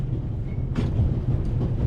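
Constant low rumble and rattle of a moving train carriage in The Raven game, a steady close drone with one brief clatter partway through.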